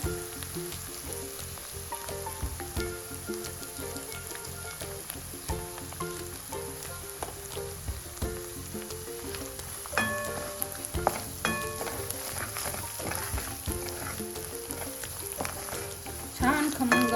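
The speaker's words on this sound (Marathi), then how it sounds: "छान फोडणी झाली आपली" Continuous crackling sizzle of spices, coriander and turmeric frying in hot oil for a tempering, close and steady, with occasional stirring clinks and a louder burst of spattering near the end.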